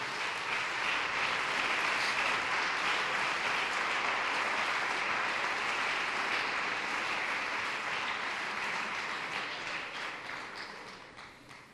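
A church congregation claps together at a worship service, a dense, sustained wall of applause that holds steady and loud before thinning out toward the end, with no speech over it.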